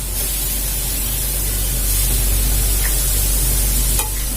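Water sprinkled over kocho cooking on a hot pan gives a steady, loud, close hiss of sizzling steam that runs unbroken from start to finish with no voices.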